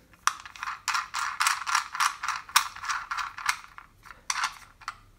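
A camera mount is screwed onto a GoPro backpack attachment: a close series of quick plastic ratcheting clicks in short irregular bursts, with brief pauses between turns.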